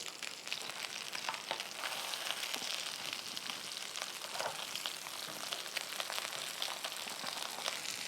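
Peanut-crusted fish fillets fry in hot oil with a steady, dense crackling sizzle that runs unbroken at an even level with no one speaking.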